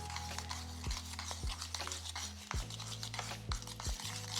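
A spoon stirs a thick scrub of red oil, honey and baking soda in a bowl, with wet scraping strokes and a few sharp taps against the side. The sound is close and steady, with no voices.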